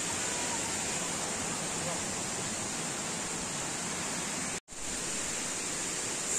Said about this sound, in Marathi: उदकाचो आवाज पळया कितलो मोठो येता हांगा. आणि हांगा वॉटरफॉल उदक वता.